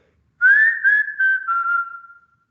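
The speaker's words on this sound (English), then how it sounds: "you can actually whistle with, taking air into your oral cavity." Ingressive whistling made by drawing air inward through the mouth: a single clear, close whistled tone gliding slightly downward in a few connected pulses, alone in silence.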